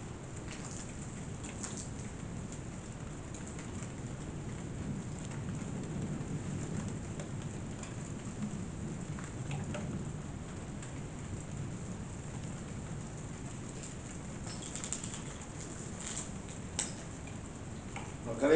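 Steady rain pours down during a thunderstorm, a dense, even hiss with low rumbling underneath and a few sharper ticks and drops near the end, heard from indoors with no voices.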